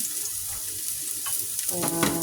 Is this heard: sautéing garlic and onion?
yes